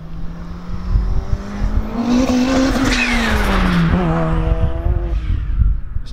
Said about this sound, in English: Jack's about to take me out in his 301 brake horsepower, fully forged Glanza with bucket seats and that.